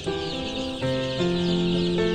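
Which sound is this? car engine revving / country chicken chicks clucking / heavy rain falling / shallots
country chicken chicks clucking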